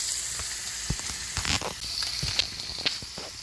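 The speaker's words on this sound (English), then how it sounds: "here my vegetables are sauteing and simmering" Vegetables sauté and simmer in a pan with a steady broadband sizzle, broken by a few brief clinks and stirring bumps, close and moderately loud with no talking.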